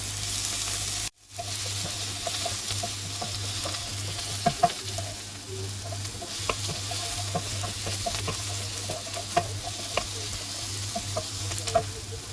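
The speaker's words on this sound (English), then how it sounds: "now I'm going to add the leeks. Keep stirring." Chopped leeks sizzle steadily in a soup pot while being stirred, with irregular scraping taps of the utensil against the pot, close and moderately quiet, after a brief pause near the start.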